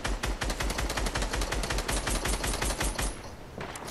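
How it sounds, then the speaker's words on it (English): Rapid automatic gunfire in Fortnite Battle Royale, a dense burst of shots that rattles on steadily for about three seconds, then tails off into quieter game ambience. "I would try and shoot them out"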